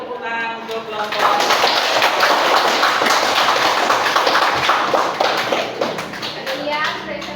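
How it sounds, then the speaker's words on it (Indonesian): A group of people clapping steadily for a presenting group in a classroom, a dense rattling applause that swells after the first second and holds fairly loud before easing off near the end. "Cukup beri tepuk tangan untuk kelompok."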